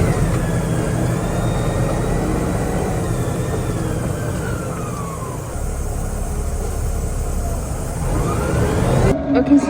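A concrete delivery truck engine runs steadily close by, a continuous low rumble with some whining mechanical tones, while people talk over it.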